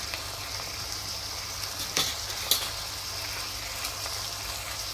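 Green tomatoes cook gently in a pan over a low flame with turmeric added, giving a soft, even sizzle with a couple of faint clinks.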